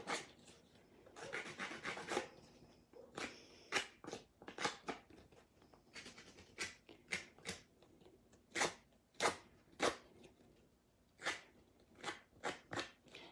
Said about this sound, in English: you're just rubbing it backwards and forwards until you're happy with the amount of distress